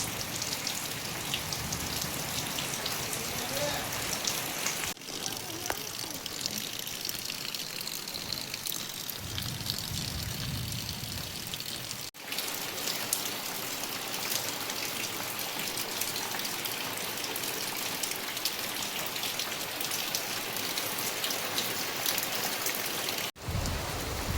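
Steady rain falls outdoors in the first rain of the season, a dense even hiss of drops on surfaces that holds for the whole stretch, with brief low rumbles mixed in and no voices.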